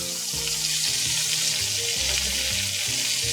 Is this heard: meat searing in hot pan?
yes